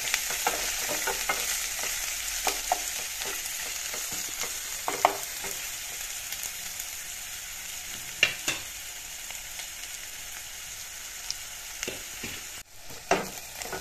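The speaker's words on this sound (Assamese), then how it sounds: "এয়া দি দিছো মই গৰম মছলাখিনি তাৰপিছত এয়া দিছো পিঁয়াজখিনি অলপ ৰংচুমুৱা হ'বলৈ দিম" Onions sizzling in hot oil with garam masala in a pan, the base for a local chicken curry with kohlrabi and potato; a steady close crackle with occasional sharper pops and stirring scrapes, no talk.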